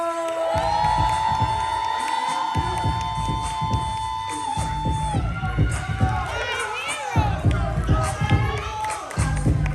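An audience at a poetry slam cheers and claps for a poet taking the stage, with loud whoops, shouting and a rough wash of crowd noise over a continuous rhythmic thumping, while a host speaks over it.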